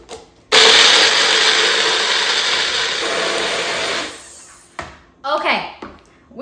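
A kitchen blender whirs a smoothie for about four seconds, a loud, steady, close motor roar that cuts off abruptly, followed by someone talking.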